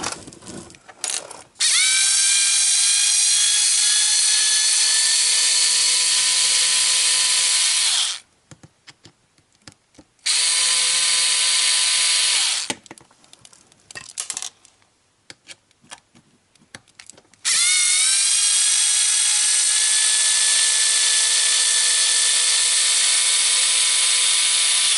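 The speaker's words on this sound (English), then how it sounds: "I can just probably remove these two screws here, which will set the diff case loose" A power screwdriver backing screws out of the differential case of a 1/10 scale HobbyKing Desert Fox RC car, in three long whirring runs with a steady whine, separated by quiet gaps with small clicks.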